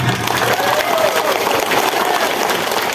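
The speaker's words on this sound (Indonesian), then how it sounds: "Tepuk tangan." An audience at a political talk gives sustained, loud applause, a dense wash of clapping that fills the whole stretch with a faint murmur of the crowd beneath.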